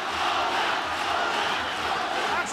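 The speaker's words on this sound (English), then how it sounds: "And the crowd get into it again." A fight crowd at a ONE Championship MMA event roars and cheers in a dense, steady wash of noise, loud and unbroken, with no clear voice standing out.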